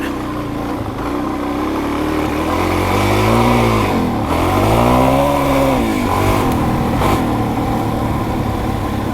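A Kawasaki KLX400R dirt bike ridden off-road on dirt, its engine loud and close, rising and falling in pitch as the rider works the throttle through the ride.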